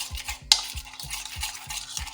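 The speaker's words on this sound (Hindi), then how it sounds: "कलर को मिक्स कर लें" A spoon stirs zarda food colouring into a chicken tikka marinade in rhythmic, wet squelching strokes about four times a second, with one sharp clink near the start and no talking.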